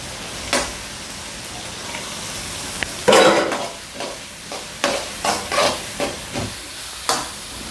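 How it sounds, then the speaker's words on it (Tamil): Long-sliced onions with salt sizzling in a pan while cooking for goat intestine pepper fry, a steady hiss broken by several sharp spoon scrapes and stirs, close with no talk. "ஒரு 2 வெங்காயம் போடுறேன். அதான் நீளமாக தான் போடுறேன்."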